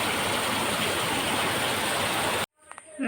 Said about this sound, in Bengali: দেখেছো কেমন চারদিক সাদা হয়ে গেছে চারদিক একদম সাদা হয়ে গেছে প্রচুর বৃষ্টি হচ্ছে